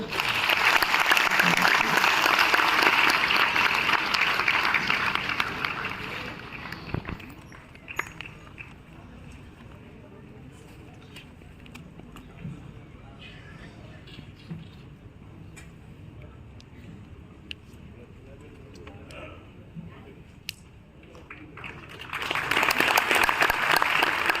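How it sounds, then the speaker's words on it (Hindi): Loud audience applause at a ceremony as women come onto the stage to honour a guest; strong clapping for several seconds fades into quieter room noise with scattered ticks and footsteps, then applause swells again at the end. "सभी जोरदार तालियों से।"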